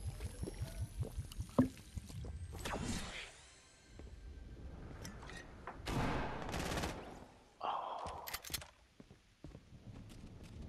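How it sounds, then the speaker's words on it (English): Gunfire in the video game Fortnite, with several sharp, loud shots and bursts spread across the clip, including a strong blast early on and later volleys, over game ambience. "Where the fuck did I hear that gunshot from?"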